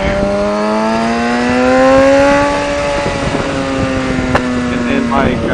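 A Suzuki GSX-R 750 motorcycle engine revs loudly and close, its pitch rising and falling in a sustained roar with no pause.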